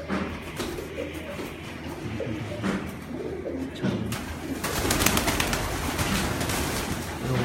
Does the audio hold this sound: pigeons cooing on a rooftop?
yes